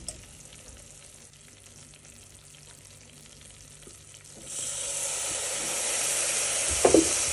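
Chocolate melted with milk being stirred in a pot on the stove, a quiet scraping stir that gives way to a steady close sizzle and hiss once more liquid goes in, with a brief clatter near the end.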